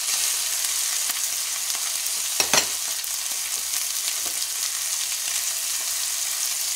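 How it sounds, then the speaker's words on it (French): Rabbit saddle sears in a hot pan with a loud, steady hiss and sizzle, close by, broken briefly by a clatter partway through as the meat is moved. "C'est important de marquer la viande comme ça."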